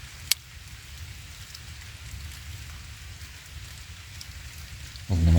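Rain falls steadily around a river in a Philippine forest, a soft even patter with one sharp click near the start and a louder rustle at the end.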